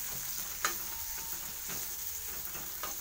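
Onions fry in oil for a puffed-rice murmura mixture, giving a quiet, steady sizzle broken by a few sharp clicks of a spoon stirring against the pan.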